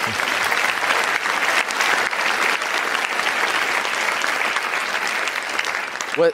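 Audience applause during a business Q&A session, a loud sustained round of clapping from a crowd that holds steady throughout, with a voice briefly heard at the end.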